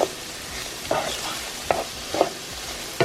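Bacon browning in a pan as the base for baked beans: a steady low sizzle with several sharp scraping stirs of a utensil against the pan at irregular intervals, close and clear, no talking.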